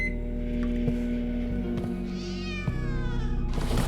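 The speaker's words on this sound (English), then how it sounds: "At least we have a cat." A cat in the video game The Operator meows twice over a steady electronic hum, a short mew and then a longer, rising and falling meow, with a soft thunk between them.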